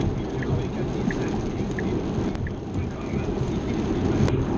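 Steady broadband rain noise on a Tesla Model S driving on autopilot on a highway, a loud continuous wash with road rumble throughout and no distinct breaks.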